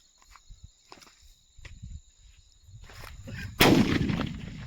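Diwali firecrackers going off outdoors, a few scattered pops and thuds early on, then one loud, sharp bang near the end followed by a rumbling tail of noise, with a steady high whine of insects or electronics in the background.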